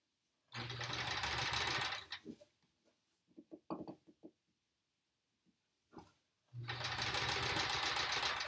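Home sewing machine stitching pieced quilt fabric, with two loud steady running bursts at start and end separated by a pause of soft clicks and handling noises.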